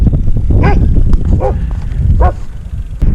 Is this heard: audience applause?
no